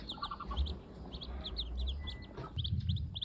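Ducklings from a hatch of thirteen peep in rapid, repeated high chirps close by near a Muscovy duck mother, with low rustling and soft background noise underneath.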